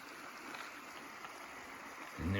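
Small rapids of a stream spill into a dam with a steady, close rushing wash of water, and a low thump comes in right at the end.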